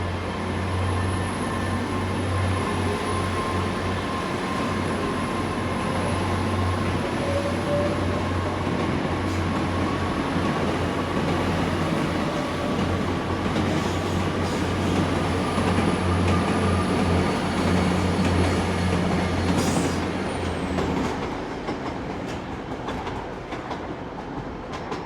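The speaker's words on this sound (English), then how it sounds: "record a train going out from platform 4" A train pulls out of platform 4 at Exeter St David's station, its low rumble and rolling clatter steady and fairly close for about twenty seconds before easing off, with no talking.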